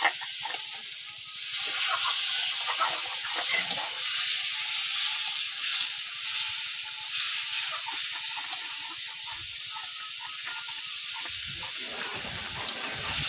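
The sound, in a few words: water added to fish curry in hot pan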